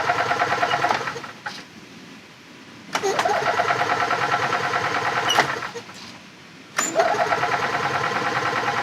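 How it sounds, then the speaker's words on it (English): A Subaru engine in a trackside support vehicle cranks repeatedly in three long attempts without catching, each starting with a sharp click and a rhythmic whirring churn, with voices talking over it. "why did it just start a second ago but won't now?"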